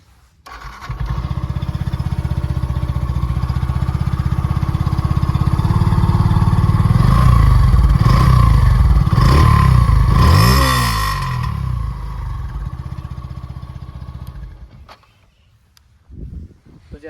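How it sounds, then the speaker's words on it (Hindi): A Yamaha FZ-S BS6 motorcycle idles with a loud, steady exhaust note, then is blipped through several quick revs midway before settling and shutting off near the end. "तो हम आपको इसका एग्जॉस्ट नोट सुना देते हैं इसी में।"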